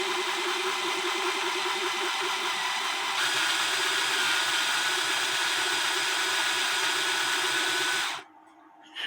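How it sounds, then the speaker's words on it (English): An electric drill runs steadily, reaming a bushing hole in a clock plate. The close, continuous whir holds its pitch for about eight seconds, then cuts off abruptly near the end. "for the most part, I'm using my drill"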